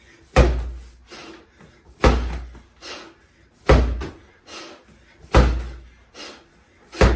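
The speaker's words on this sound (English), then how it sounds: "So the 5 hammer slams will go to the right" Medicine ball slammed to the floor in rotational hammer slams during a home strength circuit: four heavy, near thuds about every one and a half seconds, each followed by a softer bounce or shuffle.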